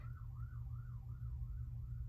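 An ambulance siren wails in a steady rising-and-falling cycle, moderately distant, over a low droning road rumble with no speech.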